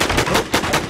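Rapid bursts of automatic gunfire from the Infestation video game, three or four loud close shots in quick succession with no talk over them.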